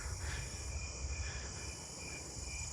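Snowy tree crickets chirp in a nighttime insect chorus, soft regular pulses over a steady high-pitched drone, faint and far off.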